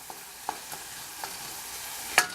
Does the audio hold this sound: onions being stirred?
yes